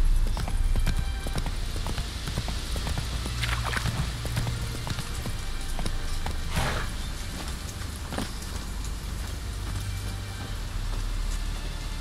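Steady clip-clop of horse hooves trotting in The Witcher 3, close and continuous under a constant patter of rain.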